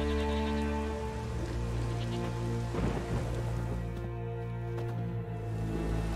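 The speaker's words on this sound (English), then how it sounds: "There's no point standing here in the rain." Steady rain pours down in a village in The Witcher 3, a dense continuous hiss under a sustained low musical drone, close and even throughout.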